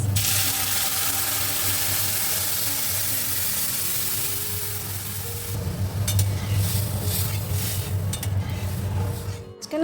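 Dal being tempered while curry is reheated in a pan in a home kitchen: steady sizzling and frying with stirring, a low running hum underneath, and brighter crackles and scraping bursts in the second half.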